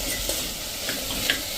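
Vegetables sizzle in a tempering over a slow flame in a pot of Gujarati khichdi, a steady close frying hiss with a few soft stirring clicks, no voices.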